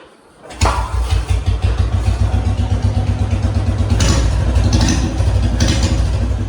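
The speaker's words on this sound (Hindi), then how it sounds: "अब एक बार साउंड सुनते हैं। स्टोक बैंड पाइप में long Punjab silencer, big mouth." Royal Enfield Bullet fitted with a stock bend pipe and a big-mouth Long Punjab silencer, starting up then settling into a loud, deep, thumping single-cylinder exhaust beat with brief revs, heard close.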